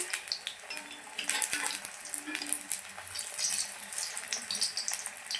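Pumpkin pakoras fry in hot oil with a steady, crackling sizzle that holds close and even throughout, with bright spits and pops rising over the bubbling.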